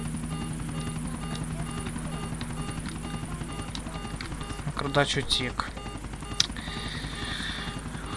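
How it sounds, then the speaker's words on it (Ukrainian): A helicopter in GTA 4: The Ballad of Gay Tony flies on after crashing, with a steady droning rotor hum throughout and a few sharp clattering bursts midway, under game dialogue and someone talking. "Все, я врізався і вертольоту тепер кришка."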